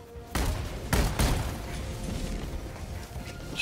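Shotgun blasts in the game Helldivers 2, two or three heavy booming shots close together, with the rumbling tail of the last one fading out.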